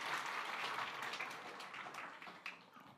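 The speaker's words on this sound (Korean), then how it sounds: "자 박수 한번." A church congregation claps during a Sunday morning worship service, a steady dense patter of many hands filling the room for the full stretch, easing slightly toward the end.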